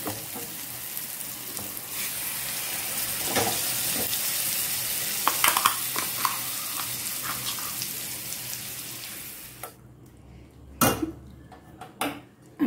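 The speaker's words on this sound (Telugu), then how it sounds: "అంటే ఓన్లీ పోపు పట్టడానికి మట్టుకే బాణట్లో వేస్తాను" Spice tempering for a tomato and mint chutney sizzles steadily in a pan with occasional stirring clinks, then the frying drops away, leaving a few sharp utensil knocks.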